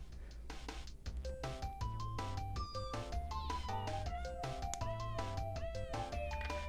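A song built from cat meow sounds plays at steady volume, with repeated pitched meows rising and falling in a melody over a constant low rhythmic backing.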